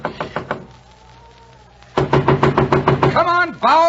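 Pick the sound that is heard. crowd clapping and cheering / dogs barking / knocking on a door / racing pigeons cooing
knocking on a door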